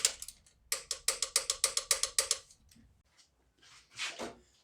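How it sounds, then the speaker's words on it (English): A torque wrench ratchets on 14mm bolts during a Toyota Highlander timing belt job, giving a close, crisp run of about ten evenly spaced clicks, then a pause and a few softer mechanical rustles. "All these 14mm bolts I'm going to torque to 40 foot-pounds."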